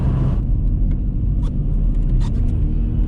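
A 2003 VW Jetta TDI wagon's diesel engine rumbles steadily as the car climbs a hill under load, with low road noise throughout and a few faint clicks and rattles.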